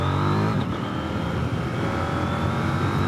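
A KTM 890 Duke R naked motorcycle accelerating smoothly above 6000 rpm, its engine note a steady, loud, continuous drone that rises gradually throughout.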